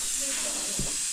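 A pressure cooker lets out a steady, fairly loud steam hiss while rice cooks inside, with a brief low thump partway through and no talking.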